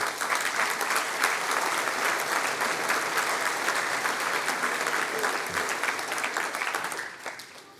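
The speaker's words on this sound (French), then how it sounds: "Vous pouvez les applaudir" Sustained audience applause at a mayor's New Year greetings event for local development partners, dense and steady clapping from many hands that carries on for several seconds before thinning out at the end.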